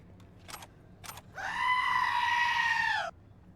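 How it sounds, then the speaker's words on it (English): A character's drawn-out scream in the video game Cyberpunk 2077 rises sharply and holds for about a second and a half, preceded by two brief vocal bursts, fairly loud with no other talk. "Sterling, I knew that was you once I heard the scream."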